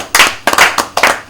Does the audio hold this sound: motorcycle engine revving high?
no